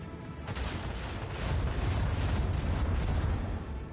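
Torpedo fire in the Warhammer 40k Rogue Trader video game, a dense, continuous roar of booming blasts and rumbling explosions that swells louder partway through.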